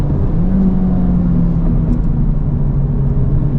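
A 2023 Honda Civic Type R on a cool-down lap at a race track, heard from inside as a steady, loud low engine drone and road rumble that holds even throughout.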